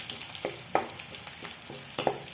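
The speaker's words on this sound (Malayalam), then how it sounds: "ഇതിലേക്ക് കറിവേപ്പിലയും രണ്ട് പച്ചമുളകും കൂടെ ചേർത്ത് ഒന്നുകൂടെ ഒന്ന് ഇളക്കാം" Curry leaves and two green chilies stirred into browning onions in a frying pan for a chickpea curry, with a steady soft sizzle and several distinct close spoon scrapes spaced irregularly.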